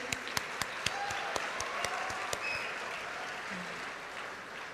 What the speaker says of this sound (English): Big round of applause to Sri Sudhakar Rao Garu and his entire team.